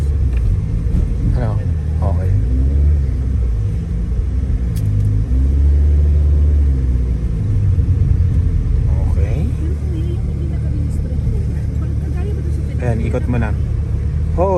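A car engine rumbles loudly and steadily, with a low throaty revving rising and falling, while people talk nearby.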